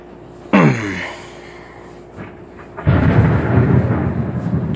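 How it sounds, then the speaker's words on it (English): A sudden loud crack of thunder during a rainstorm snaps sharply, then rumbles and fades; a second, heavier roll swells and lingers with rain hissing underneath, close and powerful, no voices. "Holy cow, that was a big old crack of thunder."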